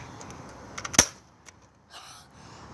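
A Nerf gun fires outdoors on a sunny day, making one sharp snap followed by a few fainter clicks and a soft rustle.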